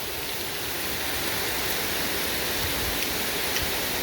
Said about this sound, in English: Kind of give you an idea of how hard it's raining.